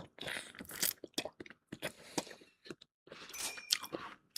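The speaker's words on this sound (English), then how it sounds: "So now, let's try the noodles." Close, crunchy chewing of spicy ramen noodles comes in irregular bursts of bites and mastication separated by brief silences.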